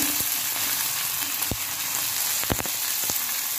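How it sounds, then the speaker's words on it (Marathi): Cluster beans and green chillies sautéing in an iron wok, a constant close sizzle broken by a few sharp clanks and scrapes of the spatula, with no talking. "आता आपण ही गवारी बरोबरच मिरची पण चांगली परततो"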